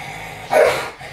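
A single sharp, close bark bursts out as dogs squabble over a frisbee, loud against a low steady background.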